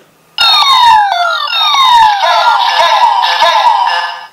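A loud electronic siren wails abruptly, sweeping down in pitch repeatedly, harsh and piercing from a nearby Kamen Rider Zeztz Sensor DX toy speaker in scan mission mode.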